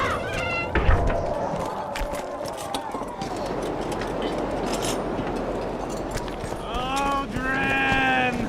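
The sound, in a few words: black cat meowing in video game The Witcher 2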